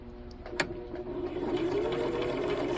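A sewing machine stitches a straight seam on fabric, starting slowly after a small click and settling into a steady, close mechanical whirr that grows slightly louder.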